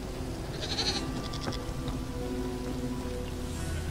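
A goat in the video game Elder Scrolls Online gives a few short, faint bleats near an abandoned house with a smashed door, over a steady soft patter like rain.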